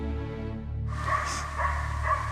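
Hunting dogs bark in short, overlapping bursts during a running boar hunt, loud and close over a steady low hum.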